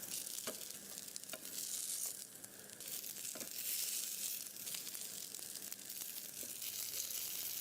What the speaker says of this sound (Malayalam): അപ്പോൾ നമ്മുടെ ഹംബർഗർ ഫ്രൈ ചെയ്ത് കഴിഞ്ഞു